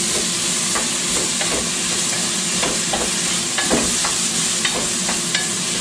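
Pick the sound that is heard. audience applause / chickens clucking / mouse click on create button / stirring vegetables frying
stirring vegetables frying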